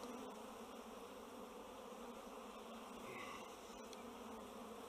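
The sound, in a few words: bees buzzing in a queenless hive, with drones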